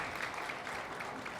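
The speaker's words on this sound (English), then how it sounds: "if you've learned from Dr. Arriaga, would you clap?" Audience at a retirement event clapping together, a dense steady wash of applause that fills the short moment at moderate loudness.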